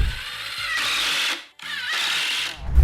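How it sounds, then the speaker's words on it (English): Power drill driving screws into a wooden shelf on a clamp rack, two sustained whirring bursts of about a second each separated by a brief pause, close and loud with no talking. "Before I start to screw in"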